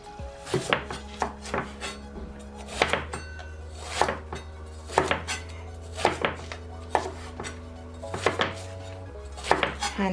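Knife chopping eggplant into bite-size pieces on a board, a steady series of crisp, close thuds repeating about once a second, with a low steady hum underneath and no talking.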